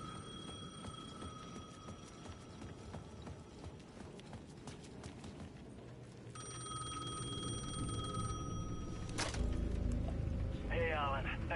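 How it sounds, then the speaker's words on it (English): A payphone at the edge of a plaza in the video game Alan Wake rings with repeated electronic bell tones over low ambient game rumble and clatter, growing louder toward the end. "The payphone at the edge of the plaza was ringing again."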